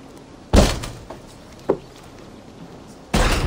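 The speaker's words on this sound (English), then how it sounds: "Come, we'll batter the door" Heavy blows battering a wooden door in the video game Assassin's Creed Valhalla, three loud thuds at uneven intervals, the middle one lighter, with no talk.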